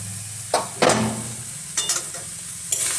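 Mushrooms frying in a pan with chilli powder and salt, stirred in a few quick scraping bursts over a continuous close sizzle, no voices.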